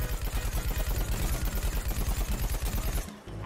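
Rapid automatic gunfire from a Plants vs Zombies Garden Warfare 2 match rattles in a steady, evenly spaced stream of loud shots for about three seconds, then cuts off into a brief softer thud.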